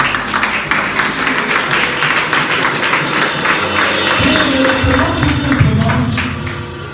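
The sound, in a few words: congregation applauding in church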